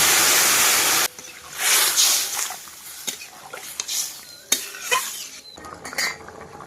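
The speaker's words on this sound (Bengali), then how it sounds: "এবার জল দিয়ে দেবো।" Water is poured into a pan of fried potato and drumstick curry, bursting into a loud hiss and sizzle that quickly fades into softer bubbling with clinks of a spoon stirring against the pot.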